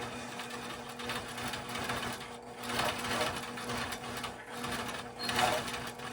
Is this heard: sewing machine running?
yes